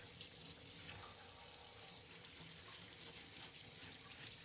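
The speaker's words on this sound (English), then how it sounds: "I'll rinse the boots under running water to flush out the wax, dirt, and soap" Leather boots with oxblood oiled roughout uppers rinsed under a running tap, a steady loud hiss of water splashing into a sink throughout, with no talking.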